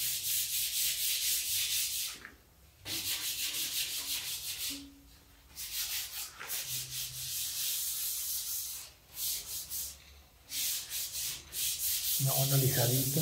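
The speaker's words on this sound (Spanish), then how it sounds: "Una lijadita." Hand sanding of a door frame on a building site, rhythmic back-and-forth rubbing strokes with brief pauses between passes, close and steady, with no talk.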